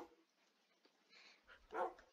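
Dogs in the video game Minecraft give a few faint, short barks and whimpers, with a louder bark near the end against quiet game background.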